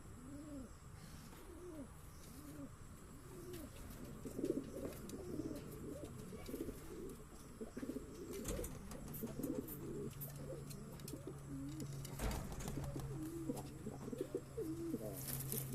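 Soft, repeated cooing of Saharanpuri high-flying pigeons close by, low rolling calls that continue throughout over a faint steady background hum.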